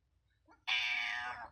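A house cat gives one drawn-out, clear meow, close and fairly loud, after a moment of near silence.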